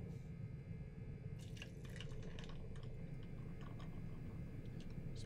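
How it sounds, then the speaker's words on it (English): A drink is poured in Condemned 2: Bloodshot, a soft liquid trickle and drip running steadily for several seconds at low level over a constant background hum. "Pouring a drink here."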